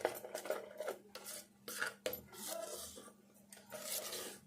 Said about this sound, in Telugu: కొంచెం పసుపు వేసుకొని కలుపుకోవాలి.